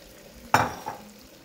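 A spoon stirs ground saag (mustard and other winter greens) in a cooking pan, giving one sharp scrape and sizzle followed by a softer second stir, close and brief.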